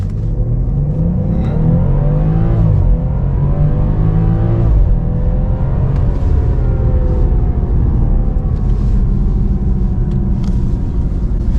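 A BMW 540i engine revs hard in a 0-60 mph run, a loud continuous rumble rising through the gears as it speeds up, heard from inside the car.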